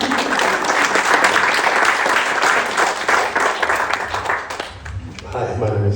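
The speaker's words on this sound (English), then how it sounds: "I think that deserves a very big round of applause" Applause from an audience at a mental health and wellbeing event fills the room, with energetic, close clapping that rises and then thins toward the end while voices talk over it.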